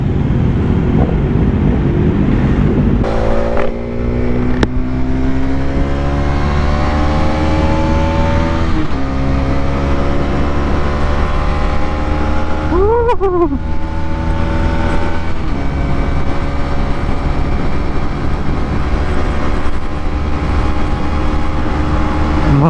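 A Modenas Dominar 250 motorcycle engine climbs a hill at a loud, steady drone with rising harmonic pitch, close up, with wind rush and a brief pitch sweep partway through.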